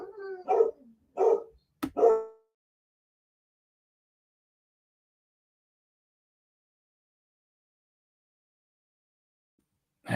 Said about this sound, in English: I have no idea what my dogs are barking at out there.